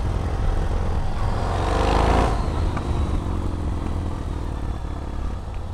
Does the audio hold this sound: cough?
no